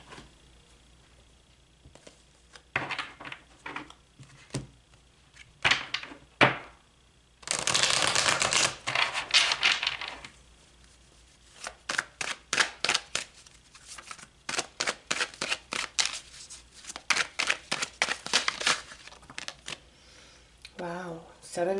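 Tarot cards being shuffled by hand, with a long riffling burst and many quick, crisp flicks and taps in uneven clusters, close and fairly soft, with occasional brief talk between them.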